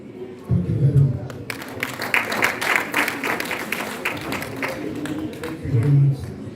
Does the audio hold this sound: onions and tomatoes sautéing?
no